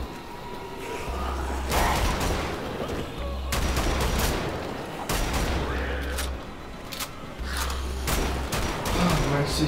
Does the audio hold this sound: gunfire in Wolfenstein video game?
yes